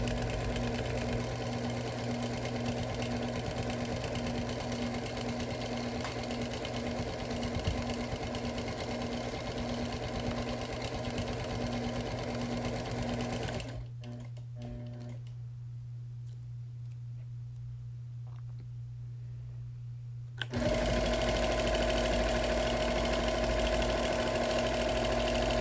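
A sewing machine stitches outline and meandering quilting into a wool quilt with a loud, steady mechanical whir and hum. It stops for several seconds, then starts again at full speed.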